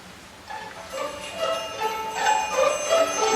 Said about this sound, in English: Soon he noticed the faint tinkling of an unused bell that hung in the corner.